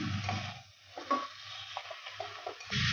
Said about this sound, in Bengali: মশলা দিয়ে মাছের মাথাগুলো ভালো করে কষিয়ে নিচ্ছি।